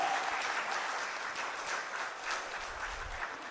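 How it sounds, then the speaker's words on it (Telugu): An audience applauds an app's achievement at a public gathering, a broad sustained patter of many hands clapping together, steady and fairly distant, with faint low rumble underneath. "గట్టిగా ఒకసారి చప్పట్లతో అభినందనలు తెలియచెప్పాలి."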